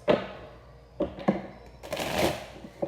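Close-up tarot card shuffling: a few crisp slaps and a longer riffling rush of cards, repeated in short bursts with no voices.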